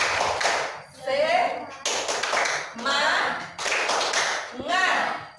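Classroom of students doing the rhythmic clap-chant tepuk semangat, several bursts of group clapping and shouted chanting separated by short pauses, with a teacher's voice between rounds.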